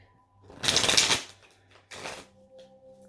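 Tarot cards riffle-shuffled close up in two quick bursts, a long crisp flurry followed by a shorter one, over a faint background hum and with no voices.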